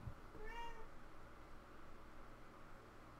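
A cat gives a single short meow in the background early on, faint against a steady hiss of room noise.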